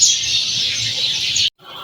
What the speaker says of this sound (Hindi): चिड़ियों की आवाज़ें कितनी आ रही हैं,